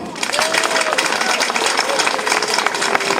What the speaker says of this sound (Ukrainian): Оплески їм!